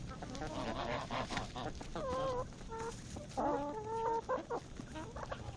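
A hen clucks in short bursts amid a flock of geese, whose honks mix with the clucking over a steady low background hum.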